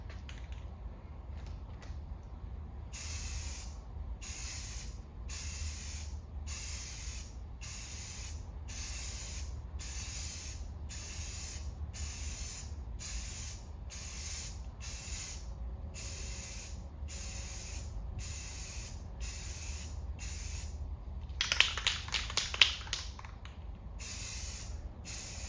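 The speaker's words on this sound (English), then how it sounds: "we're going to start spraying some coats." An aerosol spray paint can hisses in a long series of short, evenly spaced bursts while coating a Stratocaster-style guitar body, fairly close, with a faint rattle near the end.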